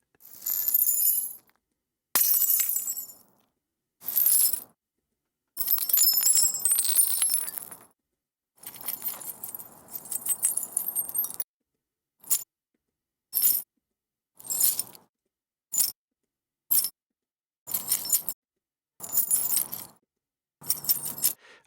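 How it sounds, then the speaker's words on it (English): Glass thrown down in a parking lot: a series of bright, sharp crashes and tinkling shards, some long scattering bursts then shorter separate smashes with silent gaps between, close and loud. "throwing a whole bunch of glass in a parking lot"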